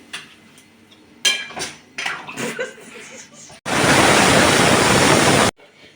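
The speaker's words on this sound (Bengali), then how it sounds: "খুব সামান্য জল দিলাম" A small splash of water goes into a pan of soybean curry with boiled potatoes: a few clinks of utensils, then about two seconds of loud, hissing pour and sizzle that stops abruptly.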